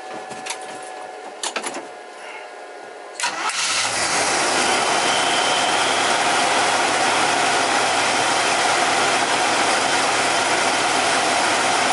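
A car engine fitted with a new carburetor cranks with a few clicks and a short starter whir, catches after about three seconds, then settles into a steady, loud, even idle that runs on without talk.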